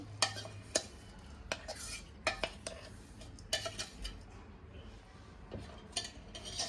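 Ground sesame, peanuts and grated coconut being mixed in a bowl: intermittent scraping stirs and light metallic clinks of a utensil in an uneven rhythm, close and fairly soft, with no voices.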